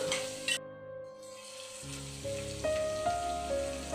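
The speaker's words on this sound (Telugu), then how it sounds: "ఒక 3 లవంగాలు, ఒక దాల్చిన చెక్క చిన్నదండి, ఒక 5 మరాఠీ మొగ్గలు. ఇవి కొంచెం కూడా ఫ్రై అవనిద్దాము" Cloves, cinnamon and marathi moggu frying in hot oil, a soft crackling sizzle that cuts out briefly and then returns under sustained tonal background music, no talking.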